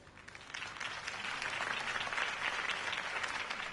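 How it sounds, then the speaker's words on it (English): Steady crowd applause in the Telltale Batman video game on PS4, a dense wash of many hands clapping that swells slightly and holds throughout. "If only Mr. Wayne, my campaign's largest backer, could have heard that applause"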